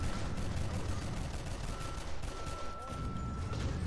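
Gunfire at zombies in the video game FEAR 3, a rapid run of repeated gun reports over dense, loud game noise, steady and close throughout.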